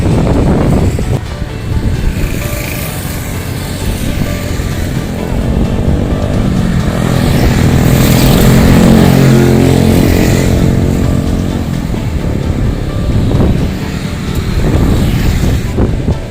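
Strong wind roars and buffets the microphone beside Situ Cipule lake along a toll road in Karawang, a loud continuous rumbling gust that swells and fades, with passing traffic blended in and no clear talk.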